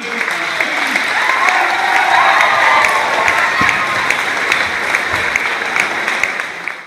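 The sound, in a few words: round of applause for graduating students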